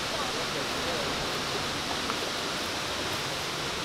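El Amate waterfall roaring steadily, a dense, constant wash of falling water that fills the whole clip evenly with no breaks.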